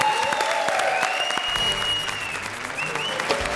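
Applause on a Hindi comedy show stage, steady clapping from a studio audience, with a musical tone swelling underneath and faint voices.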